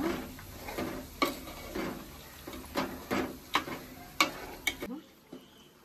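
Chicken pieces frying in oil with ginger garlic paste, a soft sizzle punctuated by repeated sharp scrapes and clinks of a spoon stirring against the pan, ending abruptly.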